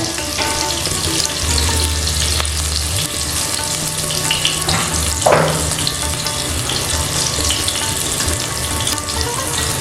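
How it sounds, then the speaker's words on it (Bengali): Pointed gourd frying in oil dusted with turmeric powder, a loud constant sizzle with occasional scrapes and knocks as the pieces are tossed around the pan. "একটু উল্টে পাল্টে এই হলুদ গুঁড়ো পটলের গায়ে মাখিয়ে নিচ্ছি"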